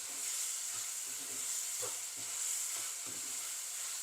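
Chilli powder frying in oil for onion tomato thokku, a soft, hissing sizzle with occasional quiet stirring knocks.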